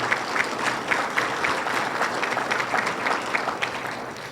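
Sustained audience applause at a regional state-of-the-region address, dense steady clapping from a large crowd with no talking over it.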